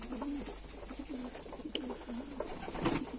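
Pigeons coo softly in a breeder's loft, several low rolling calls repeating at an even pace, faint and close, with no other sound over them.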